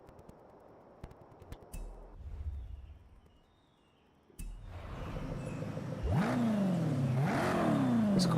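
A stock Lamborghini LM002 SUV in Forza Horizon 5 idles quietly, then its engine swells into a loud, rising rev with two sweeping pulls near the end.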